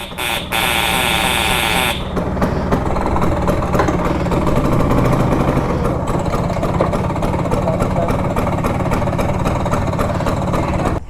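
A Bajaj Super FE scooter engine runs steadily at idle close by, a loud, even chugging hum that continues through the whole stretch after a brief harsher burst at the start, with no voices.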